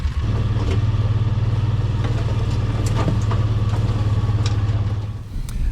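A Kawasaki Mule utility vehicle engine runs steadily and close by, a loud low throbbing idle with faint clatter over it, on a no-till food plot field.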